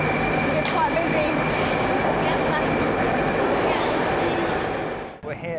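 A metro train at Milli Bog station in Tashkent, loud, steady rumble and hum of the train on the platform, with a sudden dip and shift in sound near the end.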